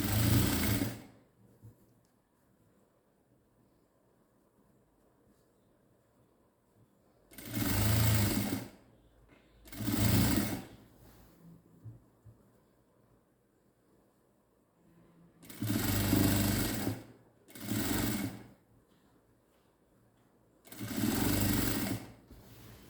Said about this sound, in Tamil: சுடிதார் 46 இன்ச் சுடிதாருங்கிறதுனால நகர்த்தி ஸ்டிச் பண்ண வேண்டியதாக இருக்குது